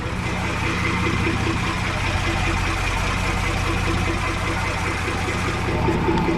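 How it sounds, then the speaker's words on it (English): An old sailboat engine, started after sitting unused for several years, idles steadily with a low continuous rumble and even mechanical ticking, close and constant before being shut off; a voice is faintly present. "Time to turn this engine off."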